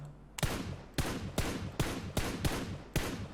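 Six loud gunshots from PUBG Mobile crack out at slightly uneven half-second intervals, each one a sharp, close report with a short tail, and no talking over them.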